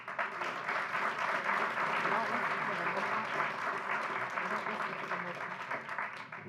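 Sustained applause from an audience at a county commission meeting, a dense even clatter of many hands lasting several seconds before tapering slightly, with some voices mixed in.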